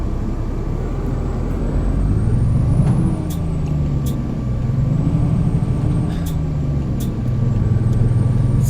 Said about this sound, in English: Let's see how well my truck pulls it.